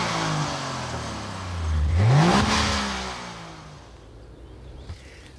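A modern two-stroke car engine revs up and falls away as the vehicle passes nearby, its pitch sweeping up then down before fading.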